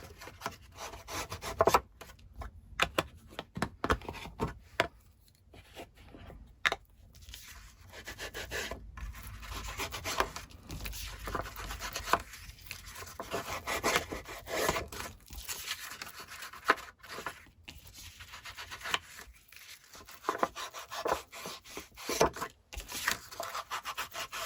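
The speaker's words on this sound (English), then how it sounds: "I am going to ink around the edge with the scorched timber just a little bit as well" Paper edges are rubbed with Scorched Timber distress ink using a blending tool, making a soft, scratchy rubbing that repeats in short irregular strokes, close and fairly quiet, with no voices.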